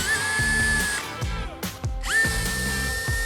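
An E-007 battery-powered wall anchor setting tool whirring in short bursts, motor pitch rising and falling with brief pauses between runs, close and loud.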